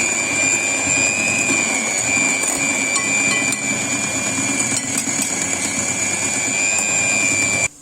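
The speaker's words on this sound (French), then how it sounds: "Je vais mélanger d'abord." An electric mixer whirs steadily through cake batter in a home kitchen, a loud continuous whine with a high ringing tone that holds for several seconds and then cuts off abruptly, with no talk.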